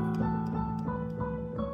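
A harp-like arpeggiated figure opens an orchestral-style piece, its notes rippling upward in quick succession over sustained low tones, played alone and fairly clear with no talking.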